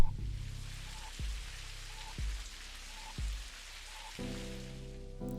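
Rain falls outside in the game Necrobarista, a soft steady patter throughout, broken by several deep low thuds at regular intervals and a sustained tonal chord near the end.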